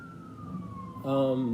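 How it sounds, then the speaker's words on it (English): A siren wails steadily in the distance, then a louder horn-like blare cuts in near the end, with a voice faintly underneath. "I don't know if you hear these sirens"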